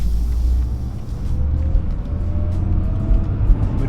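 Mitsubishi Evo engine running quietly while driving, a steady low rumble with a faint rising whine from inside the cabin throughout.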